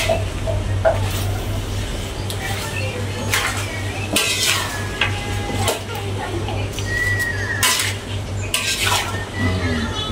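Fried sliced onions go into a pot during home cooking, with metal clinks, scraping and stirring against the pan over a steady low hum, and birds chirping faintly in the background.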